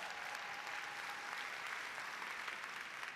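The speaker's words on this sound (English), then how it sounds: "you hear them applauding" Applause from a conference audience in Atlanta, a dense and steady clatter of many hands clapping that fills the whole stretch at a moderate distance.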